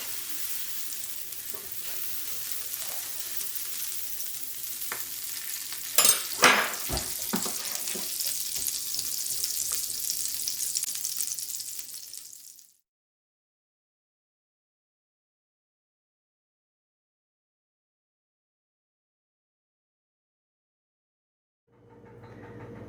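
Pumpkin pancake batter frying on a griddle, a bright continuous sizzle with a couple of brief knocks near the middle, then it cuts to silence before faint sound returns at the end.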